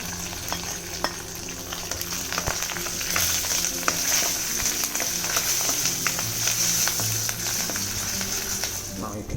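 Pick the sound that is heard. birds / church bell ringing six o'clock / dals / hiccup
dals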